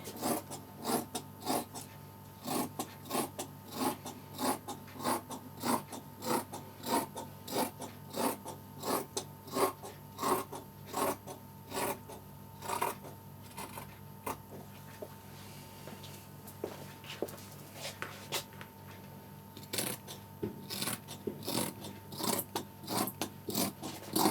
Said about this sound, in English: I'm trimming away the slight bit of the stretchy seam of this as well